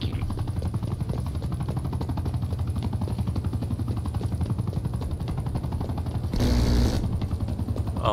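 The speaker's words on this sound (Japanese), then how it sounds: "戦闘ヘリ。" An attack helicopter in Call of Duty: Black Ops Cold War roars steadily with rapid rotor chopping and rattling gunfire, loud and close, swelling into a brief blast-like burst near the end.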